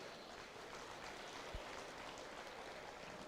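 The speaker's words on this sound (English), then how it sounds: "Give these young kids a round of applause." Applause from a county-fair audience for young exhibitors in a market beef cattle show ring, a steady broadband patter of many hands clapping, moderately distant and even throughout, with one brief low thump partway through.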